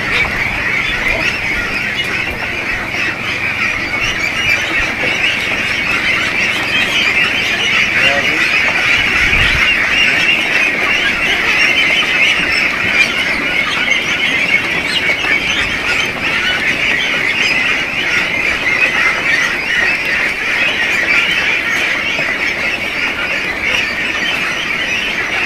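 One-month-old Itik Pinas ducks on a farm keep up a steady, dense chorus of squawks and quacks throughout, with faint talk mixed underneath.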